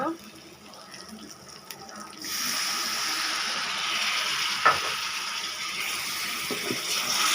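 Powdered coriander, cumin, chili and turmeric hit with a splash of water in a pan for a chicken curry; a quiet background suddenly turns into a steady, loud broadband hiss of sizzling that holds to the end.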